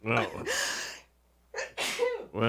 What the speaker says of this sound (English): Are you done over there with sneezing?